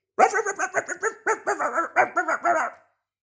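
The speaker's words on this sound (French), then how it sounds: "Aboie Pipo" A small dog barks in a quick run of about a dozen yaps, close and clear, used as a sound effect in a children's audio story, ending abruptly into silence.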